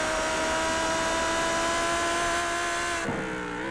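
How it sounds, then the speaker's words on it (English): Audi V10 GT3 race cars at Imola in a racing video game, a high sustained engine whine with steady harmonics that shifts pitch abruptly near the end, loud and alone. "that's around 500 horsepower of Audi V10 screaming in your ear"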